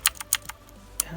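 Razer Blackwidow V2 Tenkeyless mechanical gaming keyboard: several sharp, crisp key clicks in a quick irregular burst, close up, with a short pause before a final click.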